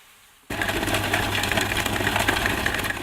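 A food processor starts abruptly and blitzes gluten-free bread into breadcrumbs, a loud steady whirring motor with a gritty, churning texture that runs continuously after the switch-on.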